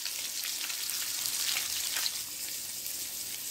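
Ground beef and onions frying in a pan give a steady, close, broadband sizzle that holds at an even level throughout with no speech.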